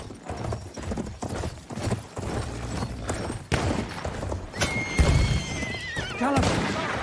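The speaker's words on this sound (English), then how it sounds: "Enemy cavalry! Giddy up!" Cavalry horses in a video game gallop with steady clip-clop hoofbeats and loud whinnies, set against busy battle noise.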